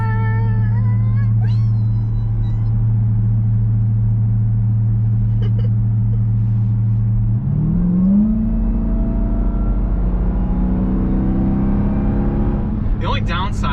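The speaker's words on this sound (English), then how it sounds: "you essentially have to speed to get to hear the supercharger whine" A 2021 Dodge Durango SRT Hellcat's supercharged engine drones steadily and loud, its pitch climbing midway as the SUV accelerates, with a rising whine layered over the rumble and voices talking over it.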